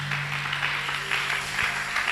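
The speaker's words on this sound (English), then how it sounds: "Did you clap your hand?" A church congregation claps during a sermon at Gethsemane, a steady, moderately loud patter of many hands applauding together, heard alone without talk.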